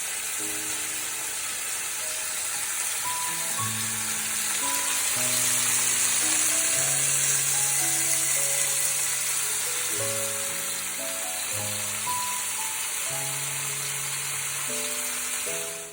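Meat frying in a little oil in a pan, browning on both sides; a steady, close sizzle and hiss holds throughout with no talking.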